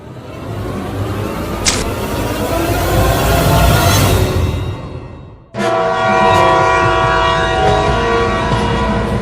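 A cartoon train runs loudly with a long blaring horn, then cuts off briefly before the horn and rumbling wheels return, close and dominant.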